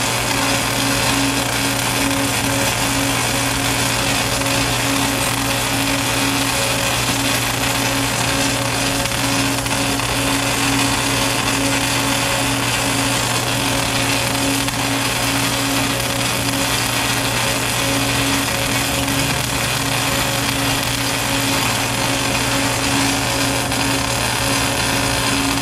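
A dual bay MIG pipe welding system hums and crackles continuously at a steady, loud level for a long stretch while a pipe weld is laid, with no talk over it.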